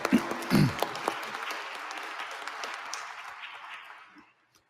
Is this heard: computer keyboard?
no